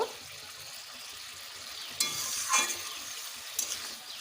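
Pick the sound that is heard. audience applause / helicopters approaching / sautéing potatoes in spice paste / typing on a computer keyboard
sautéing potatoes in spice paste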